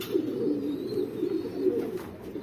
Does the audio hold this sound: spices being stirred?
no